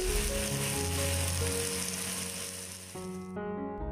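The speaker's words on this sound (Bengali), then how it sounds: "মিডিয়াম টু হাই ফ্লেমে 4 থেকে 5 মিনিটের জন্য গ্রিল করে নেব।" Chicken breast pieces grilling over a medium to high flame, a steady broad sizzle and hiss heard under tuneful background music, continuous until it cuts off near the end.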